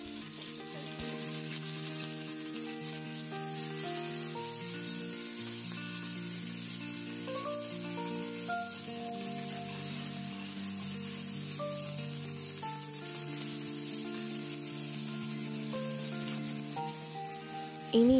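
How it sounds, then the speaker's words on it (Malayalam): Shallots, green chillies and curry leaves sizzle steadily in hot oil for Tamil Nadu-style parippu saadam, a continuous close crackling fry with music playing underneath throughout. "ആദ്യം നമ്മൾ ചെറിയ ഉള്ളിയും പച്ചമുളകും കറിവേപ്പിലയാണ് ഇട്ട് കൊടുക്കുന്നത്."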